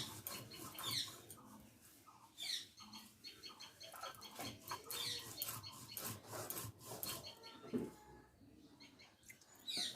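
Mustard seed paste is ground by hand on a stone with small splashes of water, giving faint, close rubbing and rasping strokes in an uneven back-and-forth rhythm, with no talk.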